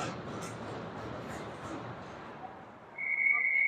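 A referee's whistle at an ice hockey game gives one sharp, sustained blast over a background of arena crowd murmur, sounding fairly close and loud.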